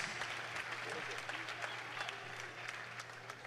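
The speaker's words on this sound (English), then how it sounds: "can I get a big round of applause for our 3rd fight of the night" Applause from the crowd at a mixed martial arts event after a three-round fight that went the distance, a steady, dense wash of clapping over a low hum, fairly distant and faint.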